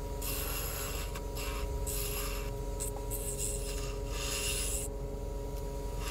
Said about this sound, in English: I'm angling the cutter to try to get more of a shearing instead of a scraping motion